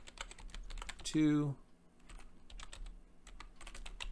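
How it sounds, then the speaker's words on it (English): Computer keyboard typing on a school computer while signing in to Scratch: light, quick irregular key clicks scattered throughout, fairly faint, with a brief spoken word in the middle. "And then I can type in notes and credits for them to know that this was created"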